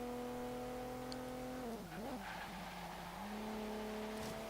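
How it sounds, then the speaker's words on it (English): A 2015 Volvo V60 Polestar inline-six engine in the racing game Forza Horizon 3 drones steadily at high revs, dips and wavers through a shift or lift, then settles back to a smooth, continuous engine note. "It's got a really nice sounding engine as well."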